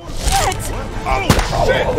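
A gunshot rings out in The Walking Dead video game, one sharp blast cutting through ongoing character dialogue and commentary.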